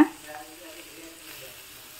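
Spices sizzling in hot oil for a traditional huli, a steady close frying crackle that stays even and moderately loud after a brief louder start, with no talk over it.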